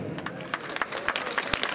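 A crowd at an outdoor festival in front of the Gogol theatre in Poltava claps, with distinct, unevenly spaced hand claps standing out over a thin wash of applause.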